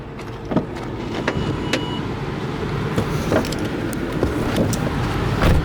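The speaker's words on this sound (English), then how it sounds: "You can hear the engine running here." A 2008 Lincoln Navigator engine idles steadily, a close continuous low rumble with faint clicks and small bumps over the top, no voices.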